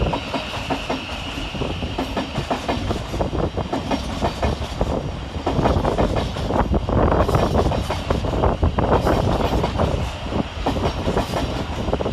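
A Govia Thameslink Class 700 electric train departs Three Bridges station, its steady rumble and rhythmic wheel clatter continuing throughout, with some wind noise and no talking.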